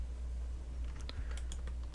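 A few light, crisp key taps on a computer keyboard sound close by over a low steady room hum, spaced irregularly near the end.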